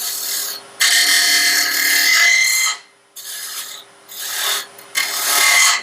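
A woodturning lathe tool cuts very dry, weathered desert wood for a small twig pot, making loud, rough scraping rasps in several long bursts separated by short pauses.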